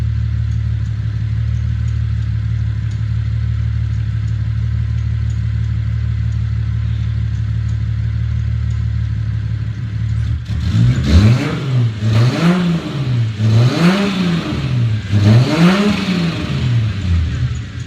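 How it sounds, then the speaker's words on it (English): A Toyota 2JZ engine swapped into a Volvo idles steadily and then revs several times in quick succession. Each surge climbs and falls back, and a faint power-steering squeal rides over the loud, close rumble. "It sounds like a 2J with a little power steering squeal"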